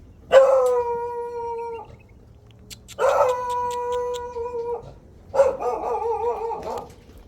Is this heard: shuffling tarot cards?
no